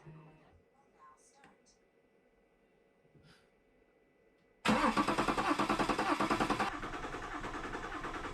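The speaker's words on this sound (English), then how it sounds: "I was able to start the engine quite fast without too much hassle" A BMW F10 530d with the N57 diesel engine, just after a valve cover gasket replacement, cranks briefly and fires up loudly after a quiet stretch, then settles into a steady, slightly softer clattering idle.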